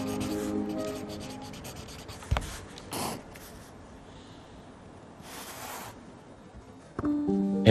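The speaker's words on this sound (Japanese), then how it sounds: "書いている時にかすかな音を楽しんでいただける" A pen writing on Midori MD notebook paper with a slightly rough surface, soft close scratchy strokes with a few taps and pauses in a quiet room.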